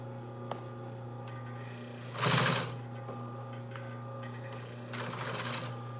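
Sewing machine stitching mesh for a yacht cushion runs in two short bursts of rapid, buzzing needle strokes over a steady motor hum, fairly close and loud, with quiet gaps between.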